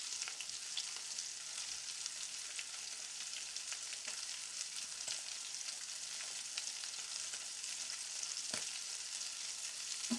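Fish frying in hot oil on a stovetop, with a dense, steady sizzle and frequent sharp pops and spatters, close and continuous with no talking.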